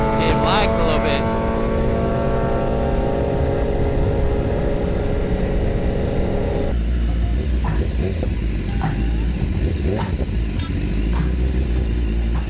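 A sport motorcycle with a quick shifter is ridden at speed, its engine roaring steadily. The pitch drops at one gear shift partway through, and a rider's voice is faintly mixed into the loud engine and wind noise.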